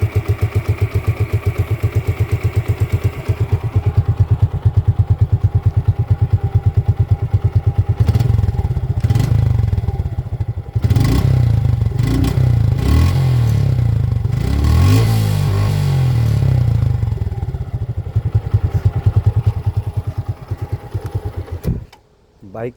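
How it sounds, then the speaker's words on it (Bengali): A nearly new 2025 motorcycle, self-started, runs close by in a steady rumbling idle with throttle blips and revs through the middle, then cuts off abruptly at the end. "বাইকটার সাউন্ড কোয়ালিটি আপনাদেরকে দেখাই দিব।"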